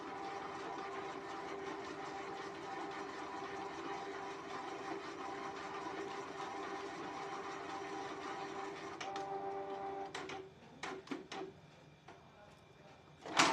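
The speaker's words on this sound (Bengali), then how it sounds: "এখানে এটা প্রিন্ট হবে তো বন্ধুরা আপনারা দেখতে পাচ্ছেন অলরেডি কম্পিউটার ছাড়াই কীভাবে প্রিন্ট হচ্ছে" Canon Pixma iP2772 inkjet printer printing a page: a steady mechanical whir and hum runs for most of the clip, then stops and gives way to a few sharp clicks and clunks of the paper feed, close by.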